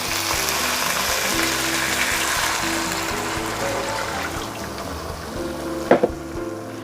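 Water poured into a cooked spice paste for sambal goreng kentang ati ampela, a loud, steady close-up sizzle and bubbling hiss that eases slightly, with a brief utensil clatter near the end.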